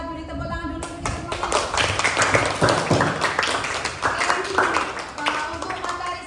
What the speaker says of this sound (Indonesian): Kita beri tepuk tangan dulu untuk